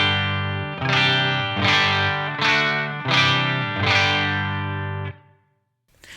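An electric guitar on a clean Line 6 Helix tone plays sustained chords, each strummed note ringing out with a rich, slightly shimmering tone and fading into a short room reverb.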